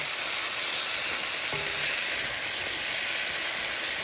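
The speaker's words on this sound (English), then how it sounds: "Saute that till tender." Celery and other vegetables sauté in a pan for a hearty beef soup, a steady close sizzle and frying hiss running throughout, with a brief clink near the middle.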